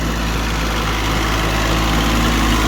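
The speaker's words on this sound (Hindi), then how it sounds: "बिल्कुल बेहतरीन चल रहा है ट्रैक्टर, जबकि 24 हॉर्स पावर का भाइयों ये ट्रैक्टर है" A 24-horsepower tractor engine runs steadily at about 2200 RPM, a loud, continuous low throbbing rumble with a broad mechanical hiss, close by and without talk.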